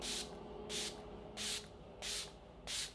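Five short hissing sprays from a makeup setting spray bottle, evenly spaced about half a second apart, close and fairly soft, with no talking.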